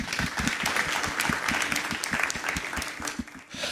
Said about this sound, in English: Please help me welcome him with applause